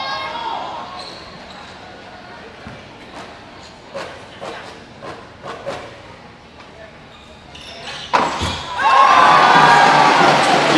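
Crowd in a basketball arena during a professional game between the Westports Malaysia Dragons and Chang Thailand Slammers: ball bounces and scattered shouts in a fairly hushed hall, then loud cheering swells near the end and carries on strongly.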